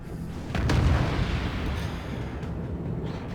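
A battleship gun volley booms out in World of Warships, a heavy low blast around the half-second mark followed by a long rumbling decay under the game's background sound.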